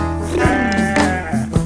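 A cartoon sheep bleats loudly and alone in a wavering, drawn-out call with a snowy, cold setting, the voice sliding in pitch over under two seconds.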